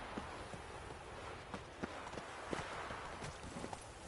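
Roach, a horse in The Witcher 3, galloping with a quick, regular clip-clop of hooves, moderately close and steady against faint background ambience.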